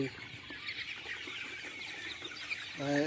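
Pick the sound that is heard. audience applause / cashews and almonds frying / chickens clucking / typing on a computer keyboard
chickens clucking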